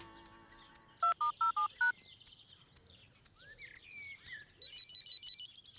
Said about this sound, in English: I'll ring her on my new mobile phone.